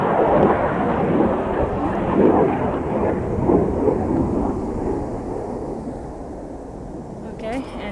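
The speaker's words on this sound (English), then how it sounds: "Military jets. Super loud." Military jet aircraft roar overhead, a loud broad rumbling that swells and slowly fades, with a brief voice at the end.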